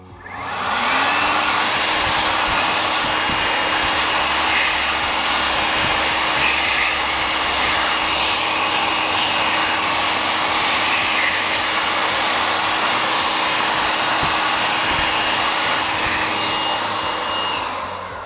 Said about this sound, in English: and then into the hand dryer